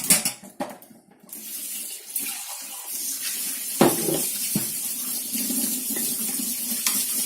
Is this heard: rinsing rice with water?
yes